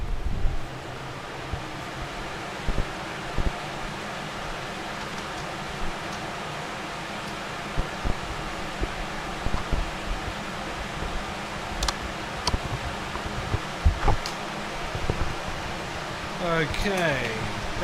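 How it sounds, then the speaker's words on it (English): Big electric fan running in a woodturning workshop, a constant broadband whoosh of moving air, with scattered small knocks and clatters over it. "I'm going to put my big fan on down there"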